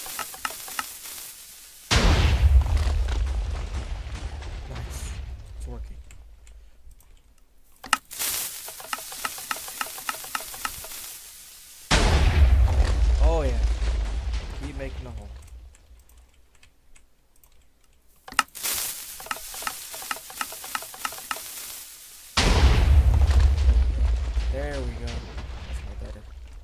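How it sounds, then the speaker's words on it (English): Three loud booming TNT cannon blasts in Minecraft, each followed by a rumbling, crackling decay, separated by quieter stretches with clicking. "I have the cannon set up, so now I'm gonna go ahead and start shooting."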